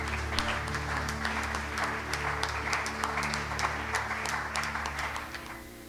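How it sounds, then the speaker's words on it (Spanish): A congregation at a Sunday church service claps loudly and continuously, dense full-room applause holding steady before easing slightly at the end, with no speech over it. "Aplauso fuerte al Rey."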